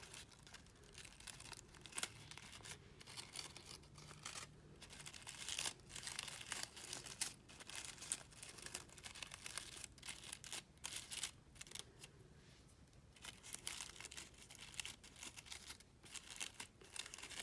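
Paper peeled away from a handmade paper lisianthus flower, producing faint, close crinkling and soft tearing rustles in irregular bursts that continue throughout with no talk.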